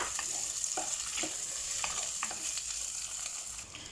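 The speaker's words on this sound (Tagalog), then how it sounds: "So, ilagay na natin ang ating egg yolk, salty. Gisa-gisa natin siya dyan." Salted egg yolk sautéing in a hot pan for a vegetable soup, a steady close sizzle and frying hiss with occasional scraping stir strokes throughout, no talking.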